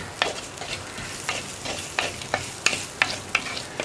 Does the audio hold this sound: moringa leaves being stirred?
yes